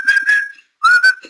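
A person whistles a short, clear melody in two phrases with a brief gap between them, loud and close with no other sounds.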